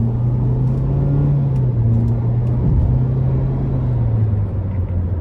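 A 2013 Nissan Juke SL AWD with a 1.6-litre turbo four-cylinder pulls out of a corner in Sport mode, a steady droning engine hum heard from inside the cabin, dipping slightly as it shifts, with road rumble underneath.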